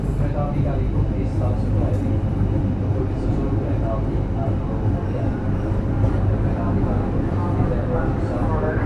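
A loud, continuous rumble of a passing Indonesian train, heavy low-pitched roar with rattling, steady throughout at close range.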